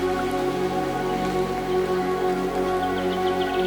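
Steady June rain falls outdoors in Denmark, a continuous even patter of drops with faint scattered drips, moderately quiet and unbroken throughout, with no voices.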